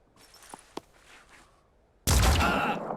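A loud, sudden burst of gunfire from a headshot in the Phoenix Point tactics game, which starts abruptly after quiet clicks and soft interface sounds and keeps ringing to the end.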